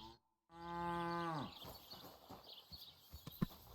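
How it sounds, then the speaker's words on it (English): In Kingdom Come Deliverance II, a cow lets out one close, drawn-out moo that falls in pitch at the end, followed by horse hoof clip-clops and faint background movement. "I'm fucking with this man's cow."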